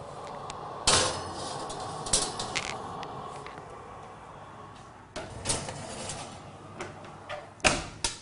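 An oven door and metal cake tins being handled as loaves go into an oven at 180 degrees: a few sharp clanks and thuds, close, separated by quieter shuffling.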